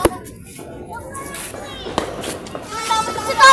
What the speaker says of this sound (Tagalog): Paputok tayo.